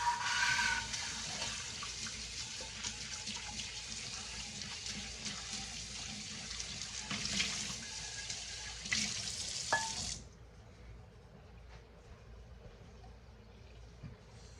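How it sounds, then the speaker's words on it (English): A hot pan that has just come off the fire washed under a running tap, with steady loud rushing water and scrubbing for about ten seconds before the flow is cut off, leaving a quiet room tone with faint clinks. "when you're washing a pan that's just been over the fire, you really want to use hot water"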